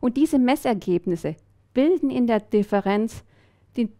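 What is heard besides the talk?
None of the usual background noises is heard.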